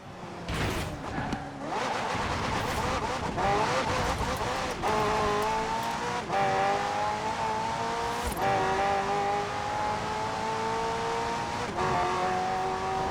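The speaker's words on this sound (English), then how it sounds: "The car's blistering performance is delivered by a twin-turbo V8, supplemented by a McLaren ECU electric motor and instant power assist system." A McLaren hybrid twin-turbo V8 car in Forza Horizon 4 revs and accelerates through repeated gear changes, the engine note climbing steadily between shifts, loud and continuous with a few sharp transients and no voices.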